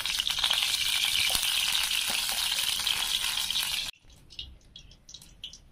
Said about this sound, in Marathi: तर कढई मस्त तापली तर याच्यामध्ये आता मी तेल टाकून घेते।